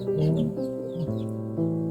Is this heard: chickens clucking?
yes